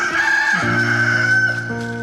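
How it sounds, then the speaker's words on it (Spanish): A rooster crows loudly and clearly in a Spanish-language dramatized Bible reading, one sustained call with layered harmonics filling the whole moment, close and prominent with no talk over it. "de inmediato el gallo cantó"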